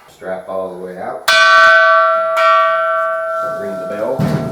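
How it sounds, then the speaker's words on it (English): A bell on a welder, plasma cutter and torch tool box combo set is struck twice, each strike ringing out with a long, bright sustained tone, loud and close, after a stretch of talk and with brief voice at the end. "Ring the bell."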